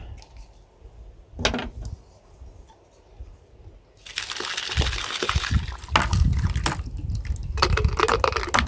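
A gold prospecting pan is dipped and swished in water: a quiet stretch, then close, loud sloshing and splashing that keeps going to the end.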